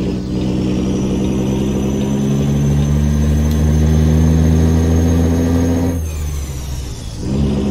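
A heavy truck engine in American Truck Simulator pulls hard with a loud, steady droning roar and a high turbo whine riding on top. The pitch holds, then drops briefly near the end as the driver shifts, and no one talks.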